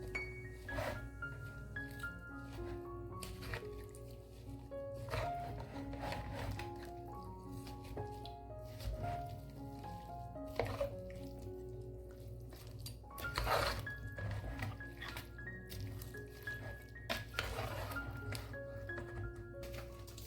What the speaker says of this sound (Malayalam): ഇനി നന്നായിട്ട് ഇതൊന്ന് ഇളക്കിയെടുക്കാൻ പോവാണ്.